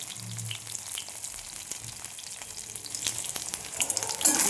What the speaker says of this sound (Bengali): পেঁয়াজটা ভাজা হয়ে গেছে হালকা, আমি গ্যাসটা অফ করে দিচ্ছি।